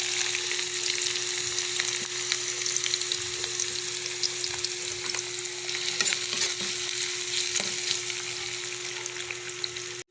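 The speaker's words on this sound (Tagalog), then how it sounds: "Igisa natin yung sibuyas, bawang, tsaka luya." Onion, garlic and ginger sauté in a hot pan, giving a dense, even sizzle and frying hiss with faint stirring clicks throughout, close up and uninterrupted.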